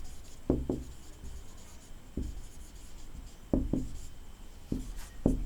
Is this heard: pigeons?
no